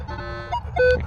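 A Minelab X-Terra Elite metal detector sounds a short, wavering electronic tone over a bottle cap, with brief pitch blips and a steady low hum underneath.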